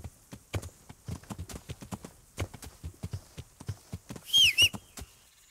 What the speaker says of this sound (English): So Here's my horse.